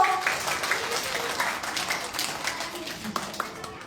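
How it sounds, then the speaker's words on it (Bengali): Children clap together at a primary school health and hygiene awareness camp, a steady patter of applause lasting a few seconds with no talk over it. "সবার হাততালি দাও।"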